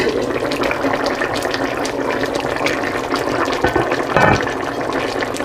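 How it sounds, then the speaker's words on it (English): A steady, dense bubbling and simmering of lamb meatball curry in a pot, continuous and fairly loud, with no voices. "you can see that they're bubbling away really nicely"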